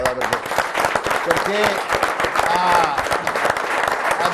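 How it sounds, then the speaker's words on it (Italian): An audience at an Italian motorcycling federation event in Padova claps steadily in a dense round of applause, with a voice speaking over it. "facciamo un applauso al comune di Padova"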